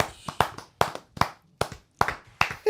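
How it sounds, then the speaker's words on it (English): Hands clapping in a run of about eight sharp, loud claps at an uneven, slightly accelerating pace, close by, with brief gaps between them and no talk. "I'm just clapping for you."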